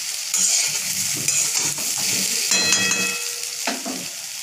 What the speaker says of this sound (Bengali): ঝাল ঝাল আলু ভাজা আমার কমপ্লিট।